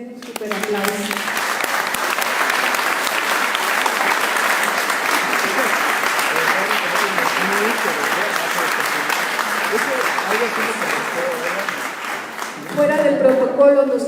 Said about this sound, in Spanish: Yo creo que se merece un súper aplauso